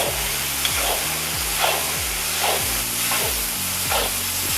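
Onions and grated tomatoes sizzle in a pot while being stirred, a continuous hissing fry with soft scraping strokes, close and fairly loud.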